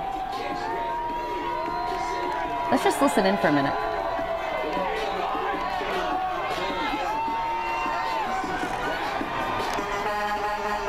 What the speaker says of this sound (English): put up our natural sound here so we can hear the crowds and the players